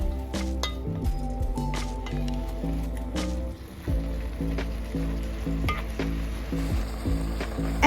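Snow peas and carrots stir-frying in a pan, with repeated clinks and scrapes of a utensil against the pan over a soft continuous sizzle, close and fairly loud, with background music.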